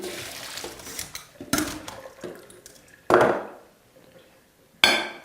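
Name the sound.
draining hot fresh soba noodles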